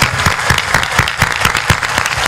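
Audience at a Hindi spiritual discourse clapping loudly in a steady, rhythmic burst, sharp claps repeating evenly throughout with no talk over them.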